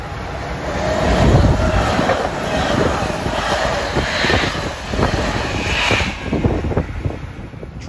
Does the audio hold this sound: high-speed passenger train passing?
yes